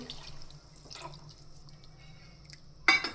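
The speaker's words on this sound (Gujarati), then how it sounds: "આપણે તેમાં આ ક્રીમવાળું દૂધ લઈ લીધું છે ફેટવાળું તેને એડ કરી દઈશું" Creamy full-fat milk is added to roasted bottle gourd for dudhi halwa, with a faint background of small drips followed by a short, close splashing pour near the end.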